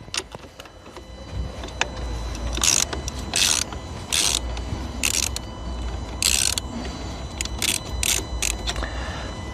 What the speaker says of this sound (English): loosen off the terminal to start with